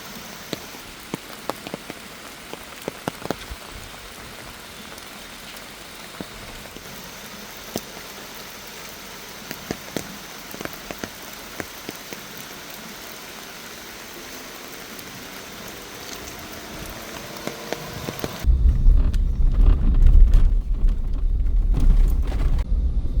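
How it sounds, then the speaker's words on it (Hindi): Steady rain patters on surfaces in the Jim Corbett jungle, a dense hiss with scattered drops; near the end it swells into a heavier, louder low rumble of downpour or passing vehicle noise. "जिम कॉर्बेट जंगल में बारिश।"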